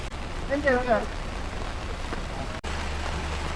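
Heavy rain in Jeju gives a steady, close hiss of rain on surfaces, with a brief tonal whine early on and an abrupt cut near the end.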